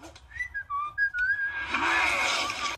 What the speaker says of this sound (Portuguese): o Garoto Dragão tenta sair assobiando